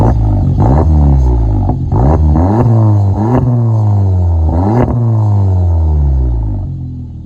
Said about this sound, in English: I did both a resonator delete and a muffler delete on this car. And since we're back here, why don't we take a listen to it?